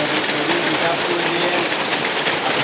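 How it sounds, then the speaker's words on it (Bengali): Heavy rain pours steadily in a Bangladesh village, a dense, continuous hiss of drops close by with no pauses, loud and alone throughout. "অনেক বৃষ্টি হচ্ছে"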